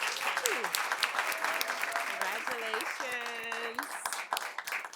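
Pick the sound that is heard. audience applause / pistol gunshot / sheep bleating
audience applause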